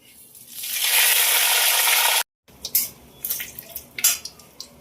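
Bay leaf, two dried chillies, five-spice and cumin hit hot oil in a pan, giving a loud hissing sizzle for about two seconds, then a brief silence followed by scattered clinks and spoon scrapes against the pan.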